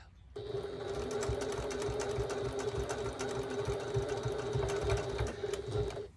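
A sewing machine running steadily while top stitching a 1941-style gasmask bag, giving a close, continuous whirring hum with a rapid needle rattle that keeps up for about six seconds, with no talk.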